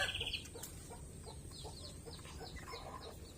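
Rhode Island Red chickens cluck faintly in a backyard flock, with scattered soft clucks over a low background hum.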